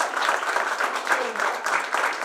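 An audience gives a short burst of dense, steady applause at an anniversary ceremony, with clapping filling the room evenly throughout.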